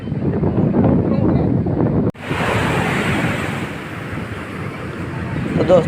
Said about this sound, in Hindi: देखिए समुंदर की लहर